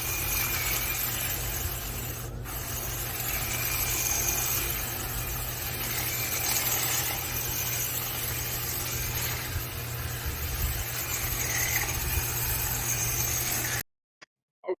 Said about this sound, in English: knocking out some of it with my Black & Decker hedge trimmer